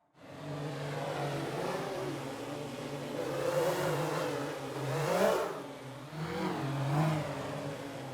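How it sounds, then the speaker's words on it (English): A video game quadcopter's small engine whirs and revs, its pitch rising and falling in sweeping surges as the craft maneuvers, fairly close and continuous without talk. "here is the entire sound of the quadcopter moving around"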